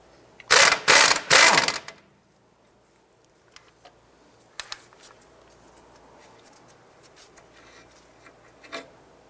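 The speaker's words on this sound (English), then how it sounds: "Using a 13mm deep socket, we want to go ahead and remove the pinch bolt for our lower ball joint." A ratchet with a 13mm deep socket backs out the lower ball joint pinch bolt on a 2001-2007 Ford Escape, giving two loud bursts of rapid clicking near the start, then faint scattered taps and rattles of tool handling.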